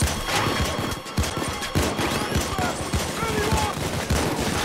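Rapid gunfire from the video game Payday 2 crackles almost continuously during a chaotic heist fight, dense bursts layered with other game noise and some voices underneath.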